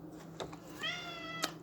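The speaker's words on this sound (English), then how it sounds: "We have Coco meowing in the background." A house cat meows once in a drawn-out, wavering call at moderate distance, with a couple of soft knocks around it and no talk.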